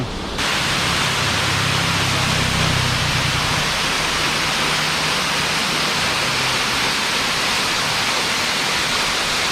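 Water pours without a break at Mag-aso in Palinpinon, Negros Oriental: a loud, dense, hissing roar of flowing falls that holds steady throughout, with a low rumble faintly shifting underneath and no talk.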